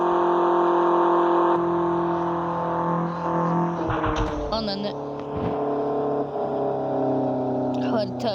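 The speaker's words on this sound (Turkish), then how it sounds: "Arabanın sesini dinleteyim size" A car engine drones steadily up close, its pitch rising and shifting as it revs, with no talk over it.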